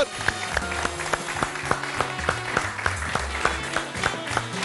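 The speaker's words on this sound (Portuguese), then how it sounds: "Vossos aplausos, faz favor." A studio audience applauds to welcome a journalist guest onto a live talk program, steady rhythmic clapping throughout at moderate level, with no talking over it.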